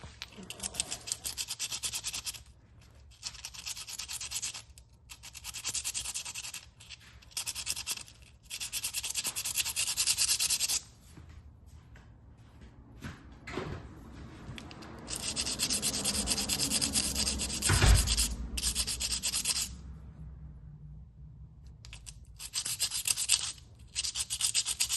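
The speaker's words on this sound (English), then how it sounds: "Just remove the top layer of rust there." Scrubbing and brushing rust off a stuck brake on a Craftsman machine, in short irregular bursts of abrasive rubbing close by, with brief pauses and faint background noise.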